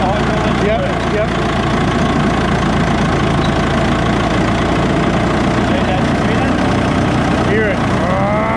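A huge wood chipper's engine runs at a steady, loud, constant drone while its hydraulic pump works, with people talking over it.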